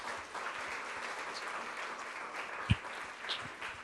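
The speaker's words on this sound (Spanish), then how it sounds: "Necesita darle un aplauso" A congregation at a Spanish-language church service claps in a soft, fairly distant patter, with one sharper thump standing out partway through.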